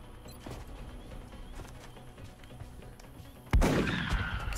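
A sharp, loud gunshot in the XCOM Enemy Within video game, one sudden blast near the end with a reverberating tail after a stretch of quiet low background.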